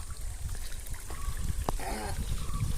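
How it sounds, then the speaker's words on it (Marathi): Stream water runs over a rocky cliff edge in a steady near trickle and gurgle, with a few sharp splashes partway through. "पाणी इथून जातो खाली."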